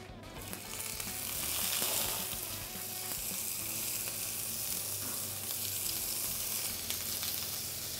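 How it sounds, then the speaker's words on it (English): Prawns sear in a hot pan with a loud, continuous, close sizzle and crackle that holds steady throughout, with no talking over it. "On a hot pan, place your prawns."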